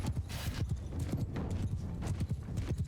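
Cavalry horses charge in Mount & Blade II: Bannerlord, their hooves pounding in a dense, rapid, continuous drumming of many riders galloping together.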